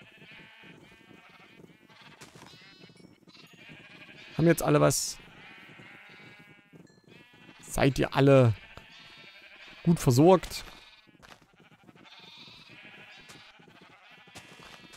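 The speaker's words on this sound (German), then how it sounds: "Auf jeden Fall ganz viele kleine Schafe." Minecraft sheep bleat in three loud bursts, one after another, while someone talks throughout; between the bleats a softer background tune plays.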